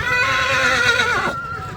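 A horse at a horse race field in Kutch, Gujarat gives a loud, close whinny lasting over a second, its wavering tone sliding downward before cutting off, with faint low rumble of the grounds beneath.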